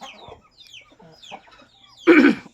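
Hens and a rooster at a poultry sale pen, with soft scattered clucks through the first part and a loud, harsh burst of squawking near the end.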